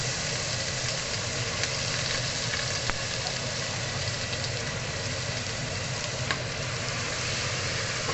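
Garlic sizzling in a hot pan for sweet corn and egg soup, a steady dense hiss that holds for several seconds with a couple of faint clicks, close and without talk.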